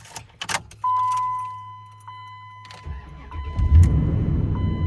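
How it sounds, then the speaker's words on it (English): A Hyundai or Kia car fitted with an aftermarket immobilizer starts up: keys jangle, a warning chime tones steadily, then the engine cranks and catches into a rough, rising idle, close and clear. "Let's try to start it one more time."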